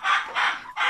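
A flock of 35 laying hens cluck in three loud, close bursts in quick succession, with no voices.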